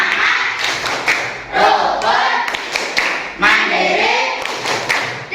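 Schoolchildren perform a rhythmic tepuk clapping chant, bursts of claps and thumps in a patterned beat mixed with their chanted voices.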